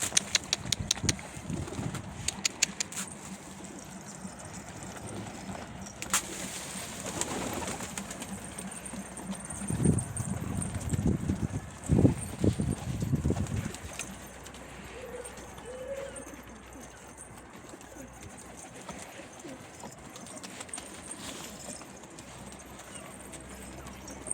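Posta ucu pigeons come in to land and settle at a loft, with flapping wings, soft cooing and scattered light clattering, under occasional voices calling nearby.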